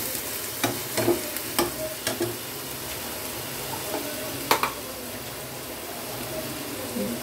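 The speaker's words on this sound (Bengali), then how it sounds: "এই পেঁয়াজ বাটাটা দিলাম, একটু ভালো করে কষে নেব।" Onion paste sautéing in a pan, a steady soft sizzle with several sharp stirring scrapes and taps of a spoon against the pan, close by and without talking.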